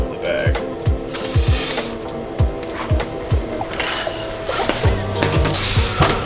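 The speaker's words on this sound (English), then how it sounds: "now we're actually going to sew them to the body of the bag" An industrial sewing machine stitches leather pockets onto a duffle bag body, giving a loud close chugging with repeated heavy thumps and a rattling mechanical drone. Speech is faintly present underneath.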